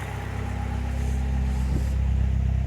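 Turbocharged 2.2 Saturn Vue engine with a side-dump exhaust idles with a steady, deep rumble and low harmonic hum, close and loud, rising slightly in intensity over a couple of seconds with no talking.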